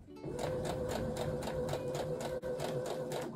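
A sewing machine stitches a narrow hem on fabric ruffles with a steady, rapid mechanical chatter, close and continuous with a brief hitch midway.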